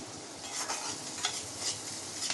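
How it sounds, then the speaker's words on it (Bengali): Prawns shallow frying in hot oil, a steady soft sizzle with faint stirring scrapes recurring every half second or so, close and fairly quiet throughout. "তেল গরম হয়ে গেছে, আমি চিংড়ি মাছগুলো আস্তে আস্তে করে তেলে ছেড়ে দিচ্ছি যতক্ষণ না ফ্রাই হচ্ছে।"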